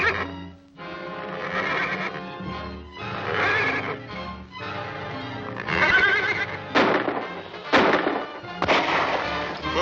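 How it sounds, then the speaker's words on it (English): A horse whinnies repeatedly, loud and close, with several shrill neighs and snorts answering one another over a steady low rumble, likely other horses calling back in a wild jungle setting. "Smelling salts will make my horse whinny."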